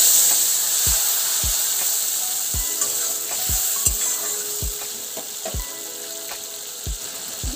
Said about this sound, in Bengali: গুলে রাখা মশলার পেস্টটা দিয়ে দেব।